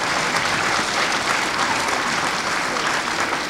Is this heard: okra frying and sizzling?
no